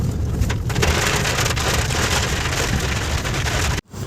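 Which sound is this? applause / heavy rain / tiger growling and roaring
heavy rain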